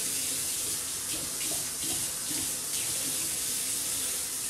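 Hot water running from a tap while wet shaving with a straight razor, a steady close splashing hiss filling a sink, continuous and alone without talk.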